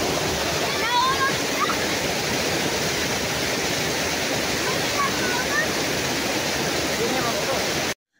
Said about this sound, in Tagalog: Grabe nga ang ganda ng agos ng dam na ito.